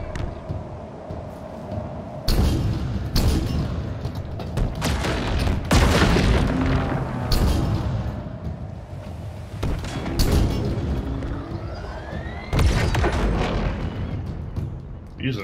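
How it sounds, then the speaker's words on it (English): Rocket launcher blasts in Halo Infinite co-op play, several loud booming explosions landing every few seconds amid gunfire, with voices talking over the action. "There was a rocket launcher and I wanted to use it."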